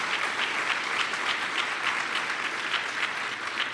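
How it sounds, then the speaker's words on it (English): An audience gives a sustained round of applause for Guy at a talk, a dense, steady wash of many hands clapping close and loud, with no voices over it. "great round of applause for Guy"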